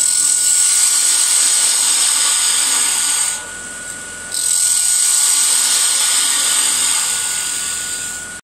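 On a wood lathe, a parting tool cuts into the end of a spinning wooden spindle for a cat-head wand, a steady high whine that drops out briefly midway and then resumes.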